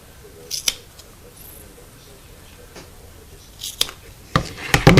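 Scissors snipping strips of tape while making a cell phone wallet, a few sharp close cuts scattered across the stretch, with a quicker cluster of snips near the end over a quiet room.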